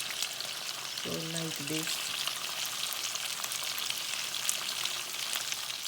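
Fish frying in a pan for an Odisha-style fish curry, a steady broadband sizzle running throughout, with a brief spoken phrase over it early on.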